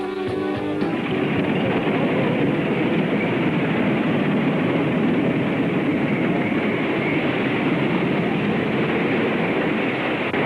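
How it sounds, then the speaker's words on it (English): Two roller coaster trains run side by side, a continuous loud rumble and roar of wheels on track with no break, close and unvaried throughout. "Here, two trains run alongside each other close enough for some handshaking from one to the other."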